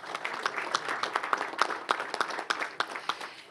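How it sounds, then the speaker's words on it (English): Scattered applause from a small audience at a school board business meeting honoring individual students, a few steady claps with sharper accents, moderately distant in a quiet room. "thank you for offering each of these individual students a round of applause"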